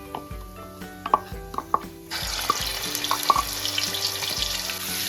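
Garlic and ginger dropped into a pan of hot oil with cumin and bay leaf, starting as quiet pan knocks and taps, then breaking into a steady, loud sizzle and crackle of frying that carries on to the end.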